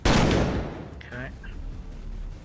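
A single loud burst of gunfire in the game Colony Ship, sharp at the start and decaying over about a second, followed by a brief muffled electronic chirp and low rumble.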